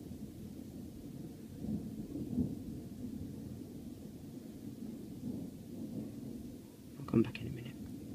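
Distant thunder rolls through a severe UK thunderstorm as a low, continuous rumble, fairly faint, swelling into a sharper crack near the end.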